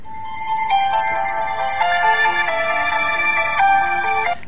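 A bright electronic ringtone from an X 4 Music mobile phone plays a stepped melody of sustained tones, loud and steady for several seconds with no voices.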